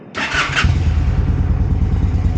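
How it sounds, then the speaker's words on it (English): A Honda Shadow 750 motorcycle engine cranks and catches after a carburetor cleaning, a brief starter whir giving way to a steady, close, low-pitched idle that runs evenly to the end. "the bike starts right up"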